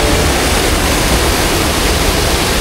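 River water in San Vicente rushes steadily and loudly, a dense broadband wash with no pauses, heard close up and alone.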